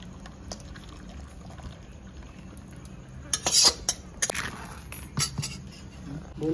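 Mango pudding mixture is poured into a tray. Quiet kitchen background gives way to a few sharp clinks and a short splashing pour midway, then scattered utensil taps.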